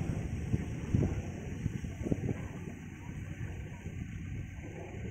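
Wind blowing at an open windmill site in Tanay, Rizal, a steady rumbling buffet against the microphone with a few louder gusts early on, faint voices at times.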